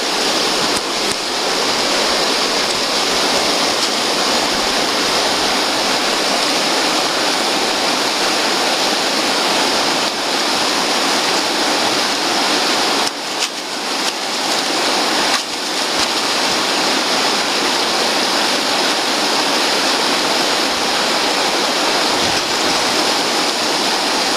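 Quartzville Creek water in Oregon pours through a gold-prospecting sluice as a loud, steady, broadband rush, continuous and unbroken for the whole stretch, with no talking.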